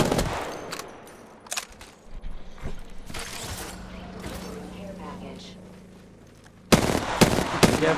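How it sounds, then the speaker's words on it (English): Apex Legends gunfire: a few isolated shots at first, then a quieter stretch, and a loud cluster of rapid shots near the end, with game sounds running throughout. "I'm just firing, popping shots at him"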